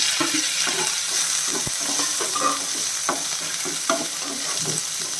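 Ginger, green chillies, dried red chillies and curry leaves sauté in a pan for coconut poha upma, with a steady sizzle under repeated scraping and stirring clinks from a spoon, close and fairly loud throughout.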